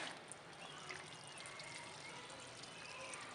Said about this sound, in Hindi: साथ में इसमें पानी शामिल कर देंगे।